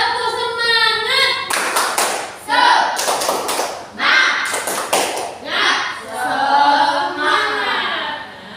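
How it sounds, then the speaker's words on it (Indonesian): A classroom of children claps a quick, rhythmic spirit-clap pattern in loud bursts, with young voices chanting along between the claps. "Tepuk semangat."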